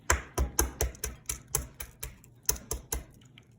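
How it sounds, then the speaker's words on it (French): Hard-boiled egg shells cracked by repeated light taps against a hard surface, about a dozen sharp clicks in an uneven rhythm, close and clear with no talking. "Je vais venir donc casser mes œufs sans pour autant enlever la coquille."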